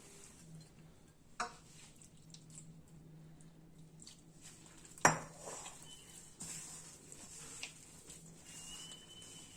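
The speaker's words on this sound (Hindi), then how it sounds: "अब इसे हम गूंदेंगे।" Baklava dough of flour and oil being kneaded by hand in a bowl, soft faint squishing and pressing with a few sharp knocks against the dish, quiet and close.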